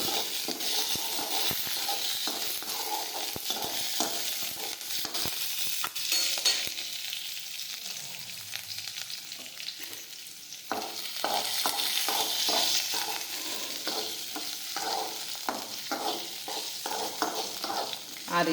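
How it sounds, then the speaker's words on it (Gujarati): Chopped ivy gourd and green chili sizzle and hiss steadily in hot oil with asafoetida as they are stirred in a pan, the spatula scraping and clacking in irregular strokes throughout, with no talking. "ટીંડોરા ને મરચું નાખીશું. હવે આ રીતે ફેરવતા જઈશું"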